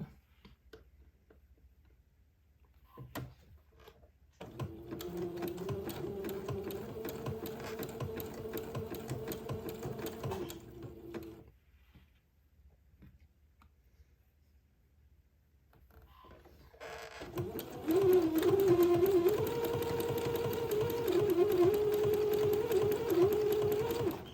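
Sewing machine zigzag-stitching gathered lace onto entredeux for a twin's daygown, in two runs of steady, fast mechanical whirring separated by a pause, the second burst louder and closer.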